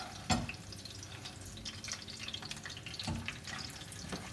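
Breaded chicken schnitzel sizzles steadily in a frying pan and is flipped over, giving a continuous soft crackle with two clear knocks of the utensil against the pan.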